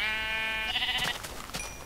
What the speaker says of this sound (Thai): นี่แหละแกะ